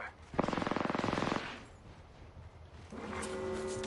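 Rapid automatic gunfire from an Apex Legends match, a single sustained burst of evenly spaced shots lasting about a second, followed by quieter game ambience and a steady tonal hum toward the end.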